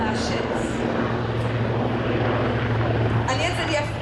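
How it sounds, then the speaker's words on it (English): A New Zealand Navy maritime helicopter flying a display at the Classic Fighters air show at Omaka Airfield, its steady rotor and engine drone continuous and fairly loud throughout, with a voice commentating over it. "So it's a naval helicopter. This is maritime based."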